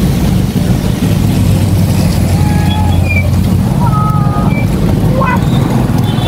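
Street traffic with jeeps rolls past in a steady, loud roar of engines and tyres, with a few faint horn-like tones in the mix and a voice speaking under the noise.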